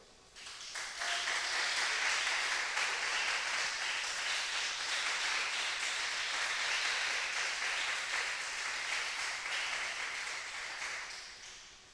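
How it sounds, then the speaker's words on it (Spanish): A church congregation breaks into applause, dense clapping that swells in quickly, holds steady for about ten seconds, then tapers off, heard from a moderate distance. "Aplauda a Dios pues."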